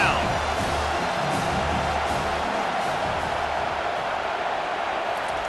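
Home crowd roaring in a college football video game, Northwestern against South Carolina, as the defense faces third down; a steady, dense wall of cheering under commentary.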